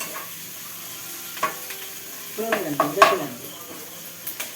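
Ginger, garlic, onion and curry leaves sauté in a pan with a soft sizzle, while a spoon stirs and scrapes against the metal in a few clustered clinks and taps midway. Everything stays fairly close and moderate in level, with no speech.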